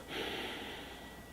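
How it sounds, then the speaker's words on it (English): One close, soft inhale through the nose over a glass of Sprecher cherry cola, a short breathy sniff lasting about a second with no talk. "Let's go ahead and sniff this."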